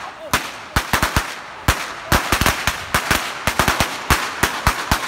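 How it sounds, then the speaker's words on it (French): Firecrackers bang off in a rapid irregular string at the Fallas festival in Valencia, sharp loud cracks a fraction of a second apart, some doubled or clustered, continuing without pause and with no voices. "c'est bien sûr les pétards que nous allons flamber tout de suite"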